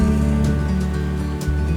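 Steady surf washes onto Pancuran Beach on Karimunjawa, a continuous close roar of breaking waves with no voices.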